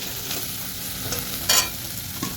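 Potatoes and taro stolons being stirred in a frying pan, with a steady sizzle under repeated scraping strokes and one louder clatter partway through; no one speaks.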